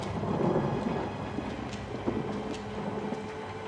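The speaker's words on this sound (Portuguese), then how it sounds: "Só quem estiver usando um som surround vai sentir a experiência dessa chuva." Steady rain roars with low thunder rumbling underneath in the asylum setting of the horror video game Outlast, a dense continuous wash with no speech.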